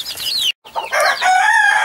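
A young Hamburg rooster, six to eight weeks old, out in a run, gives a short, close crow split by a brief gap, with no talking.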